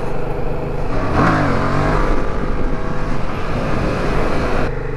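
A Yamaha MT-07 motorcycle engine holds a high, steady idle that won't drop, a loud close drone with a slight swell partway through, heard alone without voices.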